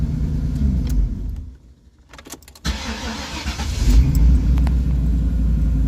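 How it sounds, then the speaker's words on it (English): A 1994 convertible's engine runs with a loud idle rumble, cuts off into near silence amid light clicks and key jingles, then cranks and restarts, settling back into a steady, slightly louder idle. "Let's see if it'll turn off and restart."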